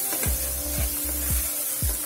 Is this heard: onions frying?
yes